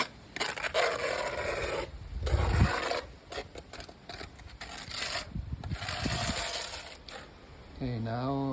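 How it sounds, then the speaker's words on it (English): A 4 mm notch trowel drags Plastifloor 800 PUMMA waterproof floor coating across a first coat. Faint, close scraping and rubbing strokes come in uneven bursts, with a few light clicks between them. "now the material is spread out with the notch trowel"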